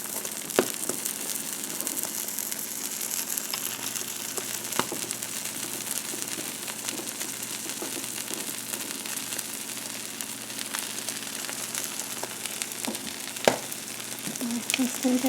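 Omelet frying in a pan, a soft continuous sizzle with scattered small pops and crackles, fairly quiet and close, no talking over it.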